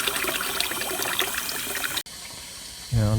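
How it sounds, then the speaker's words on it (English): Water rushing into a loft cold water storage tank through a faulty float valve, a steady broadband flow that cuts off abruptly and then carries on more quietly in the background. "just going to turn the water on"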